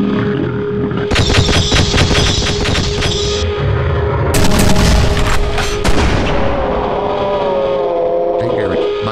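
Gunshots in a video game, rapid bursts of loud cracking fire over rumbling booms, continuous and close for several seconds before easing off, with game sounds layered beneath.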